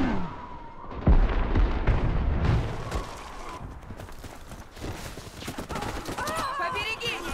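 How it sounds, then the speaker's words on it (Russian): Gunfire and explosions crack in the Warface video game as a grenade goes off, with a heavy boom early on amid scattered shots, while voices shout over the battle noise. "Побереги! Граната пошла!"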